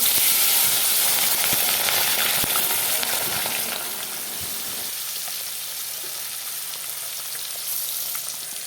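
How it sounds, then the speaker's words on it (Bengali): Pieces of rohu fish frying in hot oil in a wok give a constant close crackling sizzle that is loudest at first, then settles to a slightly softer, steady bubbling fry. "মাছের জন্য এখানে কড়াইতে তেল বসিয়ে দিলাম তেলটা গরম হয়ে গেল এখন মাছগুলোকে ভেজে নেব"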